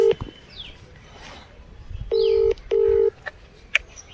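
A phone number is dialed on a keypad: a quick run of electronic beeps, two of them longer and louder, sounding close with no talking.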